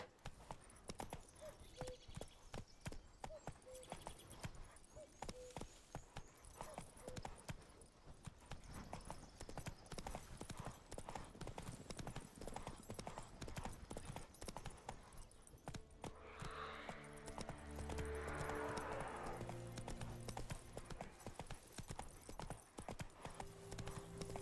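Roach, the horse in The Witcher 3, gallops in a quick, continuous run of hoof beats, fairly faint and steady, with a brief whinny or snort partway through.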